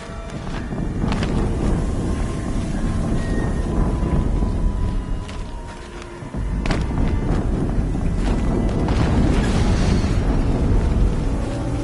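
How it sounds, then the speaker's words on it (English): A deep, rumbling explosion from the video game Horizon Zero Dawn, played on Ultra Hard during the Maker's End story quest; booming roars and bursts continue with a brief dip midway, loud and with no talking. "Another explosion."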